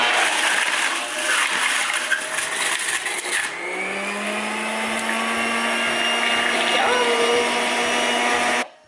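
A kitchen blender whirs loudly while making pineapple morning juice, roaring steadily, then settling into a higher smoother spin before cutting off abruptly, with talk faintly underneath.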